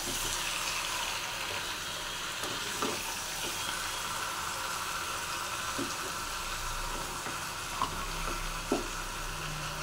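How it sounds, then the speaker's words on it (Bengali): Chicken stirred and frying in a pan with ground black pepper, a steady close sizzle running throughout with scattered scrapes and clinks of the spatula. "আবার তলা থেকে চিকেনটা ভালোভাবে নেড়ে দিতে হবে।"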